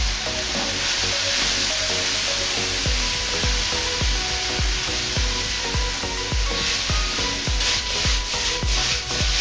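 Vegetables for chicken chow mein stir-fry in a wok with sauce, a loud continuous sizzle with scraping and tossing strokes that turn into quick rhythmic scrapes in the second half, with no voices.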